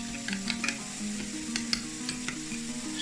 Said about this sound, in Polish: wszystko razem dobrze mieszamy